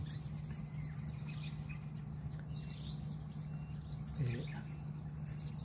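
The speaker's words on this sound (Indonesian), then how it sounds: "burung suka makan tuh bunga dia" Small birds chirp in brief tweets over steady outdoor hum near flowering plants they feed on, with a faint low murmur beneath.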